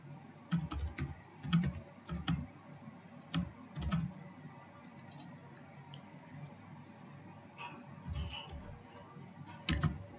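Numbers tapped into a web form on a computer keyboard, close, crisp keystrokes in short bursts with pauses between, quiet otherwise and with no talking.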